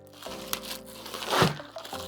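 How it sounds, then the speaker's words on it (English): A clear plastic bag wrapped around a new Passau goalie blocker crinkles and crackles up close, with a steady rustle that builds to a louder crunch before settling. "they package it in a clear plastic bag, and looks like they tape it together"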